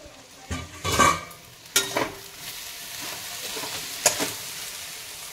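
Kochur loti, taro stolons, fry in a pan with a soft sizzle and bursts of stirring and scraping that come close in several separate strokes.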